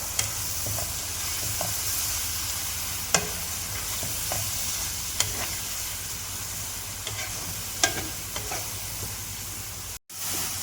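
Thick coconut milk goes into a pan of masala for karimeen pollichath, a pearl spot fish dish, giving a steady sizzle with a few sharp stirring clicks, close and alone, before a brief dropout near the end.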